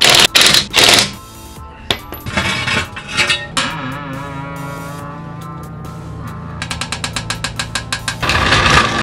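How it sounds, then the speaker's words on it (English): Lug nuts on a Ram Promaster van wheel being tightened by hand with a tire iron, with loud rapid ratcheting clicks in bursts and clanking metal up close, and no talking. "Finish with the tire iron."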